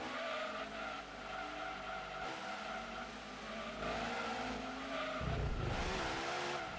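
Tires squeal and skid as a car slides in Gran Turismo 2 simulation mode, a sustained screech over the steady engine drone, loud and close, swelling toward the end with no talk.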